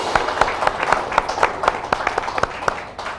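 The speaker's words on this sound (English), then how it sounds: "Big round of applause." Studio audience applause in a TV sports panel show, a steady wash of many hands clapping with sharper individual claps poking through, loud and close, fading slightly at the end.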